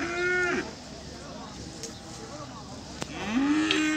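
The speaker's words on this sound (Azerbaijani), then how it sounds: "bax belə bir kök danalar var" Fattened calves moo loudly and up close at a livestock market in Beylagan, with one long moo at the start and another near the end over a low background murmur.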